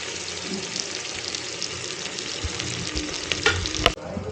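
Ingredients for a Tamil duck curry sizzle and crackle steadily in a pan while being stirred, with a few louder scraping clatters near the end.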